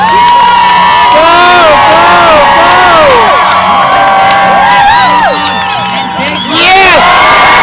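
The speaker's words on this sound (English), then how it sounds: "Come on, cheer! Go!" Crowd at a children's contest at the Alaska State Fair yells and cheers loudly and close, children's high shouts and whoops rising and falling over a continuous roar, with an announcer's voice mixed in.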